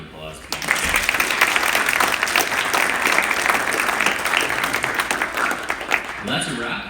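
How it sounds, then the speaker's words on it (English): Sustained applause from a graduation audience honoring the speakers, dense and steady clapping filling the room for several seconds before tapering off at the end. "one last round of applause, please"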